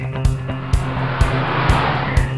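A car engine runs steadily with a low hum, punctuated by regular heavy thumps about every half second, loud and close.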